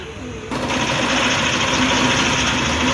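An electric motor drives a grinding stone used for milling turmeric and chili. It switches on after half a second and keeps a steady, close buzzing hum.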